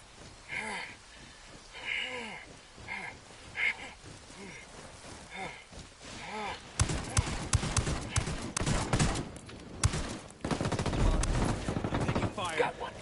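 Ghost Recon Wildlands gunfire: voices talk over scattered early shots, then dense bursts of automatic fire and loud rapid shots fill the second half of the clip.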